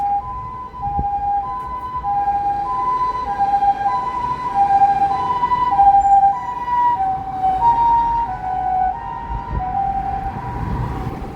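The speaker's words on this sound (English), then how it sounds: "So we have ambulance here." An ambulance siren wails in a steady two-tone pattern on a street in Japan, fairly loud, over a low rumble of street traffic.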